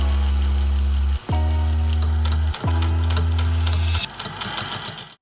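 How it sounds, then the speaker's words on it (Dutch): A vintage Singer model 201 sewing machine with hardened brass gears runs quietly in three short bursts, each a smooth steady hum with brief pauses between, then a faint mechanical rattle as it stops. "Het is een hele stille naaimachine."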